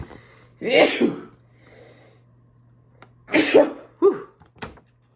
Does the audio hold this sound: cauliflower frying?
no